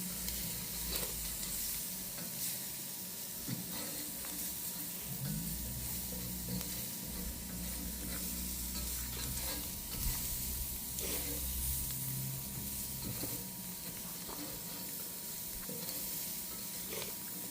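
Shrimp sizzle steadily as they are stir-fried in a wok on a grill, a constant loud frying hiss with stirring scrapes and no talking.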